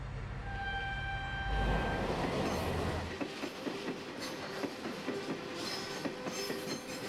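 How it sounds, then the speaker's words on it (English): A heavy freight train rumbles along China's Shuohuang Railway with rhythmic clickety-clack from the wheels, the roar swelling early and then settling into a steady clatter. "Every day, 226 trains run along it in pairs."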